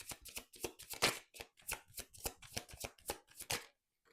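Tarot cards are shuffled up close in a quick, steady series of crisp riffling bursts that repeat for about four seconds, then stop. No one speaks.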